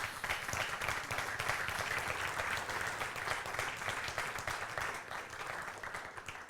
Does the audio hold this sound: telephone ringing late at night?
no